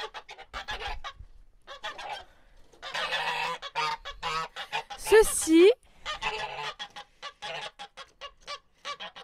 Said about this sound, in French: C'est le mâle de l'oie.